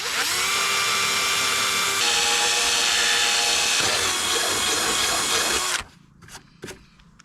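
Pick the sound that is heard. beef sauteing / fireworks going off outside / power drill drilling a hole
power drill drilling a hole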